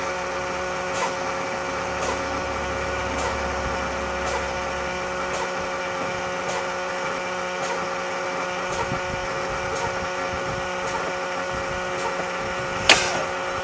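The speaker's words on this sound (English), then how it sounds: "I'll begin fanning my brakes now." Truck air brakes fanned during a Class A CDL brake test on a tractor-trailer, giving a steady string of short, evenly spaced air bursts about once a second over a constant idling engine hum, with one sharper burst near the end.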